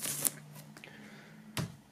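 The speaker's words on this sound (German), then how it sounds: "wir machen als erstes mal die Folie ab" Plastic shrink-wrap foil crackles as it is peeled off a small square CD box set, with sharp crinkling snaps at the start and near the end and quieter rustling between.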